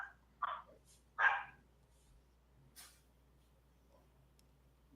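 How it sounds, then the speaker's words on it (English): A few sharp dog barks come in short bursts, two louder ones close together near the start and a fainter one a moment later, against a quiet room. "Stupid dogs."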